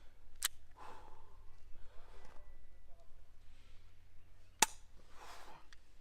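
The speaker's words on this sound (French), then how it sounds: "deux tirs rapides sur la fin" Two sharp, brief biathlon rifle shots sound about four seconds apart, cutting through faint background murmur at an outdoor shooting range.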